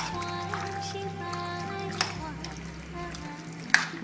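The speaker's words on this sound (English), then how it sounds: "So we're going to give this a good stir." A pot of vegan chili simmering low on the stove while being stirred: quiet, steady sizzling and bubbling over a low hum, with a few sharp clicks of the spoon against the pot.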